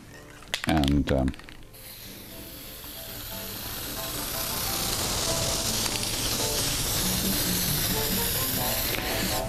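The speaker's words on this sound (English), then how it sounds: "I'm going to give it a spray of this" A short clatter, then a steady hissing aerosol spray of Permatex Copper Spray-a-Gasket high-temperature sealant onto Jaguar cylinder head cam covers, running on for several seconds, close and fairly loud.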